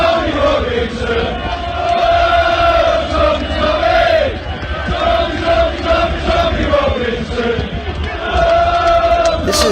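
A loud soccer hooligan crowd chants in unison, rhythmic massed voices swelling and falling in repeated phrases, close and continuous throughout.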